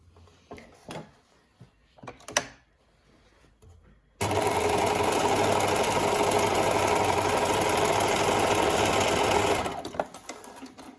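Sewing machine stitching the three openings of a welt-pocket bag, running steadily and loud for about five seconds after quiet handling noises, then stopping.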